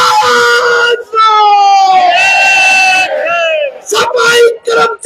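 A large crowd of sanitation workers at a rally in Kurukshetra loudly chants slogans against the Haryana government in unison, with sustained, drawn-out shouted calls followed by shorter rhythmic bursts, close and forceful.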